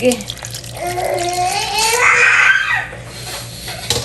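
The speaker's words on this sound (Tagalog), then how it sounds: "Lagyan po natin ng isang basong tubig." A glass of water is poured and splashes into a cooking pan, rising in pitch as it fills, with a faint voice and low hum behind it.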